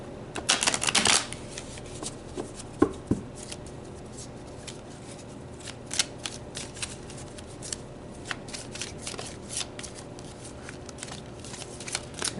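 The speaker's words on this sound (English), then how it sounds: "these little heart cards are hard to shuffle" Small heart-shaped oracle cards being shuffled by hand, a close burst of riffling at the start followed by quieter scattered flicks and soft card taps.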